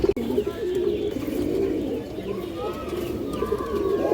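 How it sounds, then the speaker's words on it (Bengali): A pair of old-line maxi domestic pigeons coo in soft, repeated low calls close by, with faint background noise throughout. "আজকে ভিডিওর শুরুতেই একটা পুরোনো লাইনের একজোড়া মাক্সি কবুতর দেখাবো"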